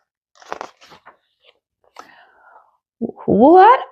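A goblin chewing a toy in a children's read-aloud story: a few short crunching, biting bursts spaced apart, followed by a closing vocal sound.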